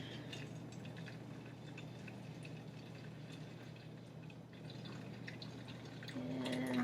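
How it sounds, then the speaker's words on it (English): Hot water being poured into a container makes a faint, steady splashing trickle that grows slightly louder toward the end, heard alone. "So let's pour our hot water into our container here."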